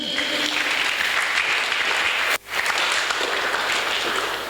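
A church congregation applauds during a Sunday service, a loud continuous wash of clapping that drops out for a brief moment near the middle, then resumes at full strength.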